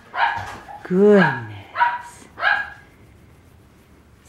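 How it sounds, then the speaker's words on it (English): A dog barks and yips several times nearby in short bursts, with a person's voice briefly heard between them. "We have a doggy barking in the background"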